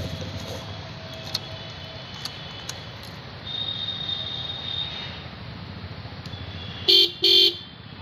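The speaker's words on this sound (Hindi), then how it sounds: "एक हॉर्न मार के देखता हूँ" A motorbike horn gives two short, loud honks near the end, following several seconds of quiet outdoor background with faint distant traffic.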